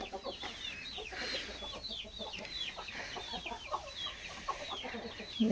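Chickens cluck steadily around a farmyard with dry hay, many overlapping calls at moderate distance forming a continuous busy chatter with no talk.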